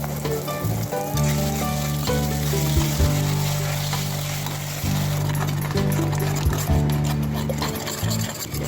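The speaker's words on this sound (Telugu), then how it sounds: "బాండీలో నూనె వేడయ్యాక ఈ ఎగ్స్ మిశ్రమాన్ని వేసి వేపాలి" Egg mixture frying in hot oil in a pan, a steady loud sizzle and crackle that runs throughout with occasional stirring sounds and no talk.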